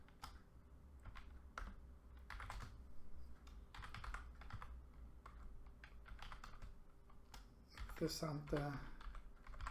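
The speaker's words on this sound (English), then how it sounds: "we can type in" Quick clattering keystrokes on a computer keyboard come in irregular bursts, close and crisp, with someone speaking briefly near the end.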